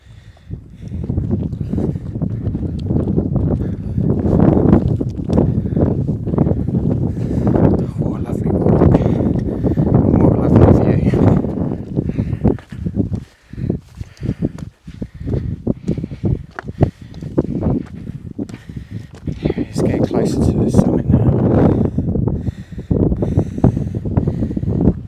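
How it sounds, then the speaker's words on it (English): Strong wind buffets the microphone on a Lake District hillside hike up Catbells from Keswick, a loud continuous rumbling roar with gusts rising and falling, and a voice talking at times underneath. "Nice bit of wind too."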